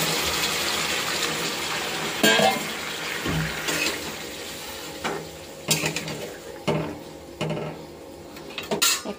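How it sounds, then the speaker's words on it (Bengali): Hot water splashes into a cooking pot holding seared ridge gourd, potato, tomato and drumsticks, with pouring and sloshing marked by several clanks of metal utensils and pot knocks at close range. "এখন দিয়ে দেবো গরম জল"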